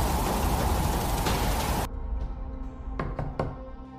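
Knuckles knock on a door several times in quick succession, sharp and fairly close, just after a loud noisy passage cuts off.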